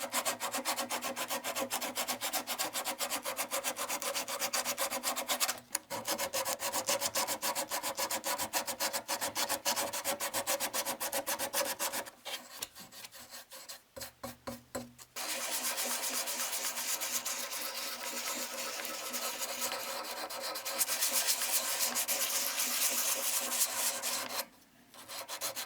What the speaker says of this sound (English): And then, a lot of sanding.